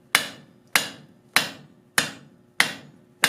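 Hammer blows forging a steel flux spoon on an anvil, thinning and squaring the center section: five sharp, ringing metallic strikes at an even, unhurried pace, close and loud, each decaying quickly.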